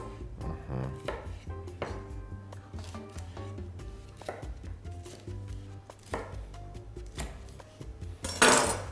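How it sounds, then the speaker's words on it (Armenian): A knife chops green sweet pepper on a board for a tomato and shrimp salad, in a steady run of sharp, close taps under a low droning background, ending in a brief louder clatter. "քաղցր, պղպեղ կտրատենք։"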